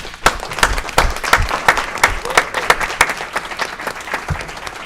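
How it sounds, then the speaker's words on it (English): Audience at an Aurora city council meeting applauding themselves, loud close clapping with distinct sharp individual claps standing out over the crowd, steady for the whole stretch. "Let's give ourselves a round of applause."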